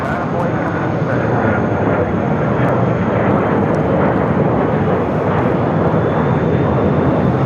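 An airliner roars down runway 7 left at Phoenix Sky Harbor, a broad, steady jet rumble and rushing noise at constant loudness throughout, heard from a distance.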